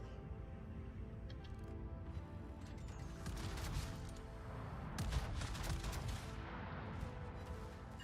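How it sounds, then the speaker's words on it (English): Warship secondary guns firing in World of Warships, a quiet run of repeated distant cannon reports and mechanical clatter over a low rumble, with sharper bursts midway through about eight seconds. "Look at them secondary gunners go."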